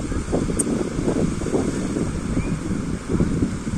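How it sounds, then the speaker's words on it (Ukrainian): Steady, cold wind blowing off the Black Sea buffets the microphone, a continuous low rumble and rush throughout with no clear pauses. "Вже такий вітерець холодний, подуває з моря"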